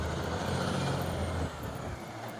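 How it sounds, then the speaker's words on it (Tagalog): A large truck passes along a residential street, a loud, rumbling drive-by that eases off partway through. No voices are heard. "Yung truck na malaki."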